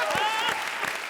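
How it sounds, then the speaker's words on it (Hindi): Studio audience applause at a Hindi comedy show, a loud, full burst of clapping with a performer's voice carrying over it in the opening moments before the crowd noise continues on its own. "जोरदार तालियां।"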